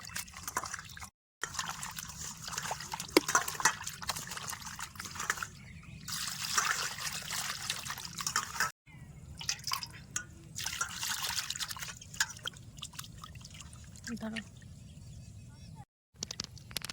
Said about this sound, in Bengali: মাছগুলো ভালো করে ধুয়ে নেব